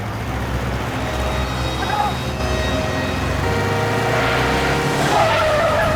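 A motorbike skids past in a TV drama scene, a loud tearing tire squeal and engine roar sweeping by over a background music bed.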